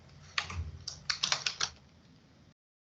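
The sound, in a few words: typing a username on a computer keyboard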